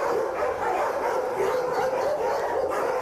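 Abandoned dogs at the Tel Aviv municipal dog shelter bark and yip without a break, a dense, echoing din from many kennels.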